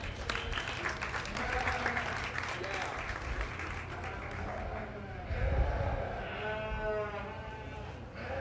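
Steady applause for kids at a county fair sheep show, moderately loud and continuous, with sheep bleating repeatedly through it and crowd murmur underneath.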